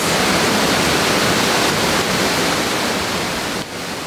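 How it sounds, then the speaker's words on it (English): Dawson Falls, an 18-metre waterfall in the alpine rainforest of Egmont National Park, roars as a loud, dense and continuous rush of falling water with no voices over it. "At the Dawson Falls lookout point, the te reo name is Te Rere o Noke and the waterfall is 18 meters high."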